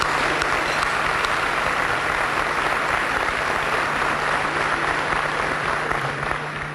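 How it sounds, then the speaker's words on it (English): Sustained applause from a large crowd at a Cesar Chavez luncheon, steady and loud throughout with no pauses, fading slightly at the very end. "Give them a round of applause."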